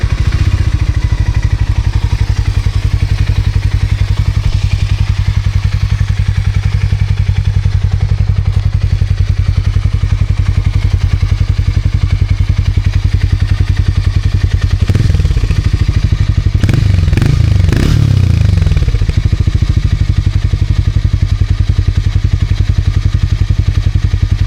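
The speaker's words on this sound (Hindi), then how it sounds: "तो चलिए इसको स्टार्ट करते हैं और देखते हैं कि क्या ये सच में हार्ले डेविडसन जैसी आवाज प्रोड्यूस करती है।" A Harley-Davidson X440 motorcycle engine idles loudly and steadily up close, a deep pulsing rumble, with a few clattering thumps and scrapes around the middle before the idle settles back.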